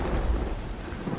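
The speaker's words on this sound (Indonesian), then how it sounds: "Oh, tumben hujan." Rain and thunder in the game Dauntless: a continuous dense patter of rain with a deep rolling rumble of thunder underneath, steady and fairly loud, with no voices.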